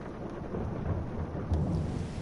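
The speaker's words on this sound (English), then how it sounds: "Oh, it's just a casual thunderstorm." A low, rolling rumble of thunder with steady rain hiss during a thunderstorm in the farming video game Farming Simulator 22, heard alone and moderately loud for a couple of seconds.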